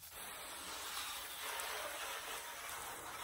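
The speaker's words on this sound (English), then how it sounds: "we'll spray everything off first" A water spray hisses steadily onto a car engine bay during rinsing, a continuous broad close rush of water with no talk.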